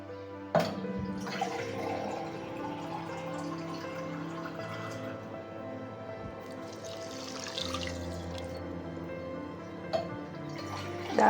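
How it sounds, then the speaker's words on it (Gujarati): Water poured from glasses over washed rice and dal set to soak for jini roll dosa, a steady trickling, splashing pour running close and continuous for several seconds, with a few sharper clinks and no talk. "હવે આપણે પાણી નાખીને એમને પલાળી લઈએ."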